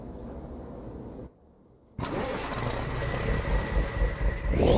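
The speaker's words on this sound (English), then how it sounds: "We're going to get the Cummins M11 fired up" In American Truck Simulator, a Cummins M11 diesel truck engine cranks and catches after a brief pause, then settles into a loud, rumbling idle with a rough, loping rhythm.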